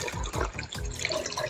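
Water runs steadily over a small decorative rock fountain, a mini rock waterfall, giving a close, continuous splashing and trickling with no voices.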